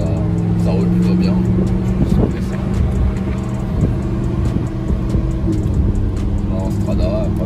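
Lamborghini Huracan police car cruising in Strada mode, a steady engine drone from inside the cabin with road noise throughout and a voice talking over it.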